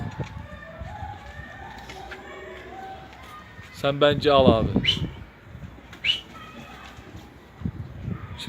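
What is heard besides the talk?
birds in a coop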